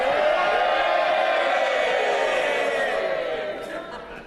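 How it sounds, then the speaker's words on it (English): MPs in the UK Parliament chamber raise a loud, sustained roar of cheering and shouting that fills the room and fades slightly toward the end. "This is the moment for cheering."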